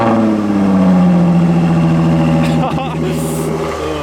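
A Jaguar F-Type V6 S engine fires up and idles loudly and close, with a steady low rumble and a slight revving sweep, while a person talks over it.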